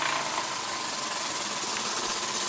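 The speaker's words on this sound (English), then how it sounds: "I think I overfilled the boiler just a little bit, but it's running." A model steam engine on a charabanc runs with its boiler slightly overfilled, giving a dense, steady hiss and rapid mechanical chuffing close up, unbroken and with no voices.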